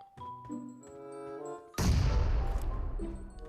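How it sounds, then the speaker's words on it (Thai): A grenade goes off in the PUBG Mobile shooter game as one sudden loud blast that then rumbles and fades. Game music and ambient tones play before and after it. "ระเบิดตายเลยอย่างนี้เหลือคนเดียวดีครับ"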